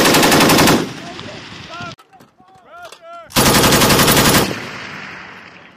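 U.S. Marines fire M240B machine guns in long sustained bursts, loud and close. A quieter gap between the two bursts carries distant shots and radio-like calls, with voices heard briefly.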